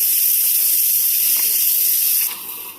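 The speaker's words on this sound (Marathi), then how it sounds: "तव्यावर थोडंसं बटर टाकायचं." Butter sizzling on a hot tawa griddle before a paratha is roasted, a loud steady hiss close up that drops slightly in level near the end.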